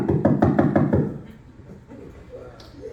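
A rapid series of about six firm knocks on a door at 3:30 in the morning, loud and close, followed by quieter room noise.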